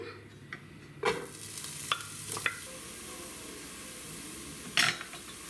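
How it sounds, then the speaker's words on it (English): Chopped onion frying in hot oil over medium heat, a quiet steady sizzle broken by a few sharp scrapes and clinks of a utensil against the pan. "When the oil is hot, fry the chopped onion."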